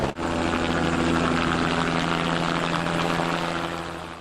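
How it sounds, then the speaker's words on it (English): A helicopter flies low over rugged forest, spreading possum poison baits from a hopper with a spinning disc. Its steady, loud rotor and engine drone with strong low harmonics holds throughout and fades slightly toward the end. "the helicopter accurately spreads the baits across the rugged landscape"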